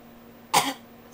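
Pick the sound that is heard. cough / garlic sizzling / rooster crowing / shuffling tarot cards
cough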